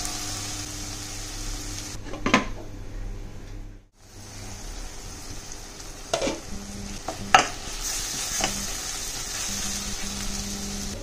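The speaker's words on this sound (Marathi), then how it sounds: "जे वांग जे भाजलेले आपण ते थोडं मी पळीनी मॅश करून घेते" A ladle mashes roasted eggplant in a pan, with intermittent scraping and knocking strokes over a soft sizzle, including a brief quiet gap, no voices.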